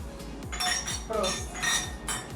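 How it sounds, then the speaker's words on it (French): Glasses chinking together in a dinner-table toast among friends over a Senegalese thieboudienne fish-and-rice meal, several bright clinks in quick succession with cutlery clatter and chatty voices around the table. "Dulce, elle n'a pas voulu trinquer avec moi, Dulce."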